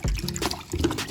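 A sheet of 600-grit wet sandpaper is dunked into a bucket of water, giving a brief close slosh and gurgle of liquid.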